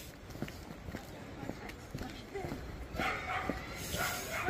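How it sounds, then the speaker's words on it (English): Dogs, a Boerboel among them, bark and yip while running about outdoors, with scattered short barks, patter and movement noise throughout and louder rustling near the end, and someone talking over them. "I've got some running dogs. Dogs everywhere."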